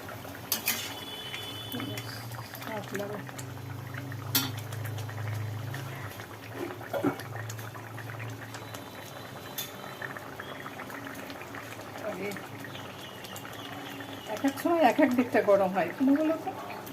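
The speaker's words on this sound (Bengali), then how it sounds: "চাপা দেওয়া ছিল ঝোলটা ফুটে অনেকটাই মরেছে" Egg and potato curry bubbling in a covered pot on the stove, a steady low simmer running throughout with a few clinks and a louder burst of bubbling near the end.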